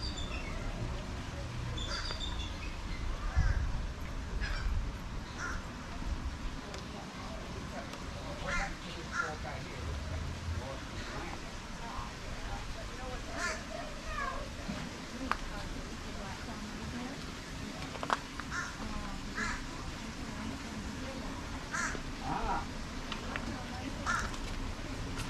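Crows and other birds call repeatedly at a distance over a steady outdoor murmur in a park in Punta Gorda, Florida, with people talking faintly in the background.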